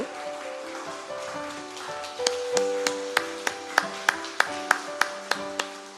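A church congregation claps in blessing during a worship service; steady, evenly spaced claps join in partway through over sustained keyboard-like musical tones.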